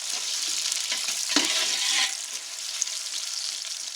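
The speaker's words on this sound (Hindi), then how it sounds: "किया हुआ प्याज ऐड करके इसको पकाएंगे। इसको मिक्स करेंगे अच्छे से।" Onions fry with a steady close sizzle while being stirred in a pan for chicken kabuli pulao, with a few scraping knocks of the spoon and no talking.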